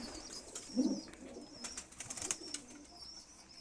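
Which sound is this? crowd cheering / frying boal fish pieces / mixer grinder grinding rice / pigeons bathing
pigeons bathing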